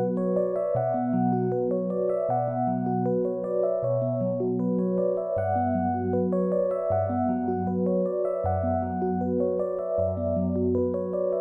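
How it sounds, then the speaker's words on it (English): A soft electric keys preset from an Analog Lab synth plays a repeating chord pattern, mellow sustained tones stacking in a steady rhythm with a gentle bass shift midway, clean and alone. "I picked the double softness preset out of the key section"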